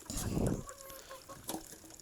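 Black-feathered broiler chickens cluck and squawk close by, a burst of low calls followed by a few sharper, higher squawks.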